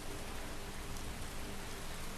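Steady rain in the video game Skyrim, heard from inside a building as a soft, continuous broadband hiss throughout, with no voices.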